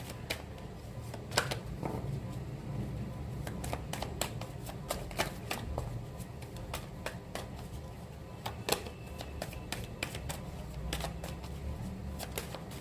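Tarot cards are shuffled in quick, crisp riffles and flicks, close and quiet, repeating steadily over a soft background with no talk.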